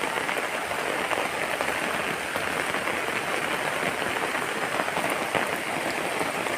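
Steady rain falls on a calm, windless, overcast morning, a dense even hiss of drops on surfaces that holds unbroken throughout with no voices.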